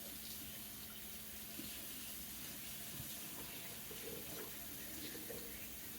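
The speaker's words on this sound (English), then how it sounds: "Rinse it. Rinse this rag." Water running steadily from a faucet into a kitchen sink while a rag is rinsed, a constant soft splashing hiss with faint handling noises.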